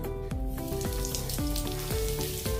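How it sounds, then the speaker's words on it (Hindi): Asafoetida dropped into smoking-hot mustard oil in a pan for a Pahadi-style potato dish, giving a steady close sizzle and crackle with a rhythmic scraping stir repeating every half second or so. "तो अभी इसमें हम हींग डालेंगे"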